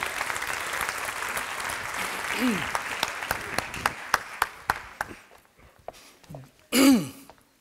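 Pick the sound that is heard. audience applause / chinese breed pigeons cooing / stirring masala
audience applause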